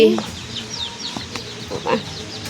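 Domestic chickens clucking close by in a rural Bangladeshi village yard, several short, choppy calls in quick succession with faint background noise.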